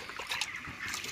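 Water is poured into a tray to wash it, a short, close splash and trickle with sloshing, alone without voices.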